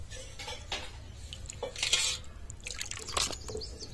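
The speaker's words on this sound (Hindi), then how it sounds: "चलिए इसको बढ़िया से पानी गार करके छिपा में रखते हैं" Water drains from washed rohu fish set in a metal vessel, giving quiet scattered drips and trickles with a few light clinks of the dish.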